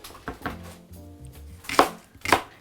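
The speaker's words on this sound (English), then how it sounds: "I'm just gonna slice it in little thin slices because I still actually want some of that texture" A knife slices a leek into thin slices on a chopping board in an outdoor cooking setting, giving a few separate soft cuts followed by two sharper knocks of the blade on the board.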